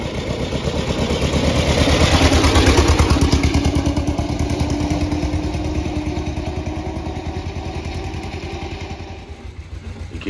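Engine of a 1907 Darracq AX veteran car running while driving, a loud close rhythmic chugging and clatter with a mechanical whir that swells and eases over ten seconds, no voices.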